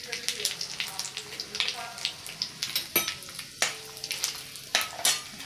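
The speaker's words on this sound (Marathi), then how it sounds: "कांदा थोडा परतते ते" Chopped onion sautés in a pan after whole spices and red chilli for spinach khichdi, a steady crackling sizzle broken by sharp clinks and stirring scrapes, close and moderately loud, with no talk.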